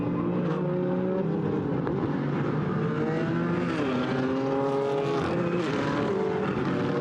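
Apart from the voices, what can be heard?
GT4 race cars, McLaren and BMW, racing at Paul Ricard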